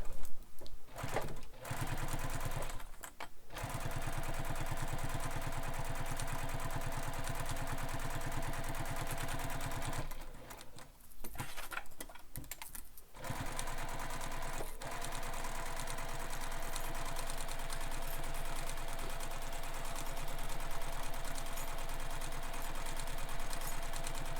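A sewing machine top stitching on a handbag, its rapid mechanical chatter running steadily with two brief pauses where the needle stops, fairly close and unaccompanied by talk.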